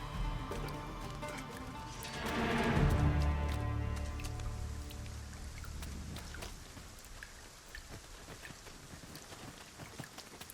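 Rain falls in the video game Dragon's Dogma 2, a soft steady patter of drops with scattered nearer ticks, joined briefly by a low rumbling swell that fades back to the quiet downpour.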